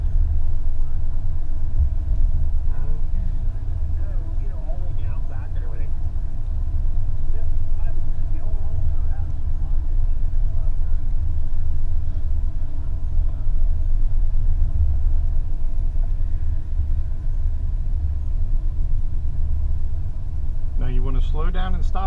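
Car rolling slowly up toward a ticket booth, a steady low engine rumble close by throughout, with faint voices talking over it and a brief bump near the end.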